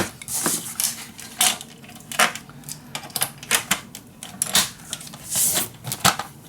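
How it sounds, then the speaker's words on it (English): Paper is scored one inch all the way around with a blade tool, producing a series of sharp scraping strokes and clicks in an irregular rhythm, close and fairly loud. "Alright, so we're gonna score 1 inch all the way around."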